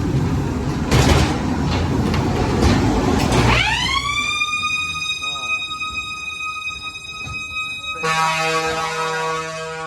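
A Ghost Train XL fairground ride at a funfair runs with loud rattling mechanical clatter, then a rising siren-like electronic wail that holds steady, cuts off and is followed by a harsher tonal blare.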